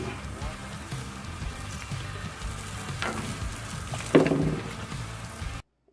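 Burger buns toast on a hot griddle with a steady sizzling hiss and a few louder crackles near the end, then the sound cuts off abruptly.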